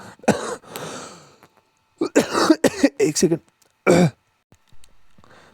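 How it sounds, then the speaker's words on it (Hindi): A person coughs and clears their throat a few times in sharp, close bursts during a lecture, with brief spoken words mixed in and short pauses between. "सॉरी यहाँ पे खांसी आ गई थी"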